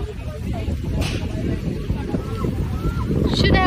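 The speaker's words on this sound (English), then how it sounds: "Do you see how windy it is, mom?" Strong wind by the sea in Istanbul buffets the microphone with a constant low roar throughout, while voices talk faintly underneath.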